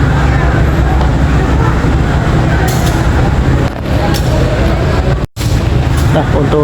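Loud, continuous rumble of a train pulling in at Merak station, steady and close throughout, with a brief dropout near the end.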